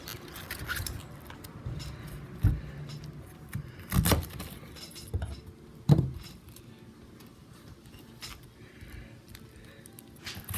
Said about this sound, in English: I began chopping the cabbage in as small pieces as possible